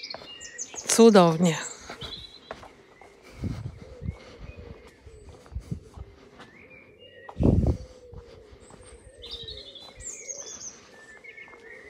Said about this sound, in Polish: Ptaszki dzisiaj dają koncert niesamowity.